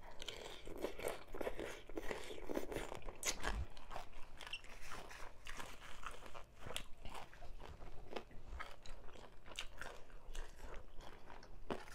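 Spicy Thai papaya salad with crispy pork being eaten up close, with repeated loud crunchy bites and chewing in an irregular rhythm throughout, no talking.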